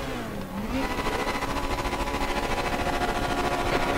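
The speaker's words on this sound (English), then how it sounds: "I'm gonna start the engine." NSU race car engine in the RaceRoom racing game at Zandvoort, cranking briefly then settling into a steady, loud buzzing idle with fast rhythmic pulses lasting several seconds.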